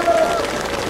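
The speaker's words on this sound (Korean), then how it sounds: "박수 한번 보내주세요" A brief burst of crowd applause at a Korean election campaign rally, dense clapping from many hands, loud and close for about a second.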